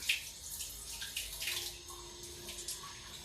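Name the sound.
washing a knife under running tap water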